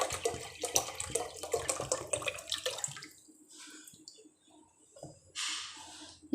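Water splashes and trickles into a pan of coconut milk, loud and continuous for about three seconds, then quieter drips and a brief final pour.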